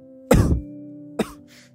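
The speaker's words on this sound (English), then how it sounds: "coughs." A single sharp cough followed by a shorter throat-clearing burst a moment later, close and distinct over a faint steady hum in a quiet indoor podcast setting.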